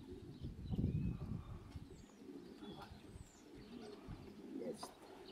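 Soft coos from racing pigeons returning to their loft drift through a hushed outdoor scene, with a low rumble of handling or movement near the start and faint chirps in the background.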